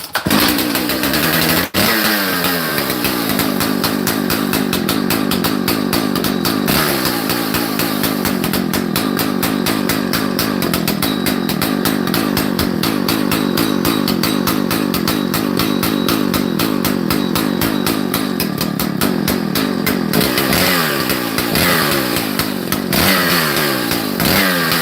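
A big Husqvarna-style 298 chainsaw runs loud and close for the whole stretch, a harsh high-revving roar that stays at full throttle while cutting, with brief dips in pitch near the start and the end.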